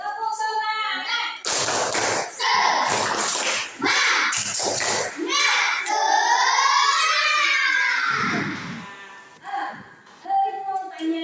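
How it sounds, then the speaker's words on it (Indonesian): A class of students doing the "tepuk semangat" clapping chant: bursts of group claps in a quick rhythm between chanted voices, then a sustained shout and more talk, all close and loud. "Ayo biar semangat kita tepuk semangat dulu"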